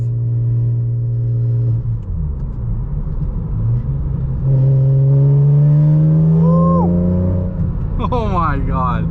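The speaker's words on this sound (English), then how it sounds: "It has to be an upgraded exhaust." The engine of a 2006 BMW Z4 M sports car with an upgraded exhaust drones deeply and then climbs in revs, throaty and close, while people talk over it.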